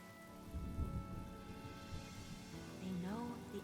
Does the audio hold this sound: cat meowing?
no